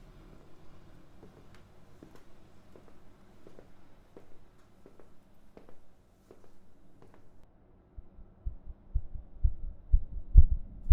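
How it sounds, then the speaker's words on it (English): A steady heartbeat thumps at a slow, even pace, soft and close, growing louder and more irregular toward the end. "your heartbeat is a dead giveaway"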